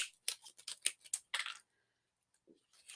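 Scissors snip pine cone pieces for handmade pine cone flowers, a quick run of about eight crisp close cuts followed by near silence and a faint rustle.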